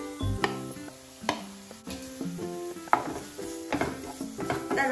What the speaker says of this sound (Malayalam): അതിലേക്ക് നമ്മുടെ അരിഞ്ഞു വെച്ചിരിക്കുന്ന സവോള ആഡ് ചെയ്ത് കൊടുക്കാം